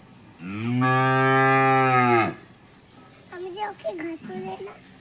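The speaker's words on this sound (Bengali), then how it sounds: "এটা কাদের গরু?" One cow lets out a single sustained moo close by, lasting nearly two seconds, followed by someone talking softly.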